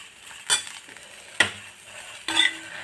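Roasted dried chillies, salt and tamarind stirred in a hot pan: three separate scraping strokes of a spoon against the metal, close and fairly loud, with a faint sizzle between them.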